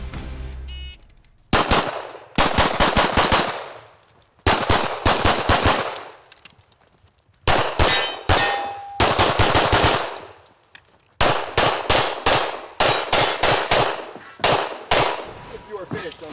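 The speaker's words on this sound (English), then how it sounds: "While Max is shooting in the open division, Travis is shooting limited" Rapid strings of pistol shots at a practical shooting competition stage in the limited division, loud close bursts of quick double and multiple shots separated by short pauses while the shooter moves between positions.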